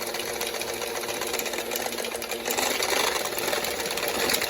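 Sawzall reciprocating saw running a scrap-built shaker that rattles a paint can, a fast continuous mechanical buzz with a rapid chattering rhythm that grows slightly louder partway through.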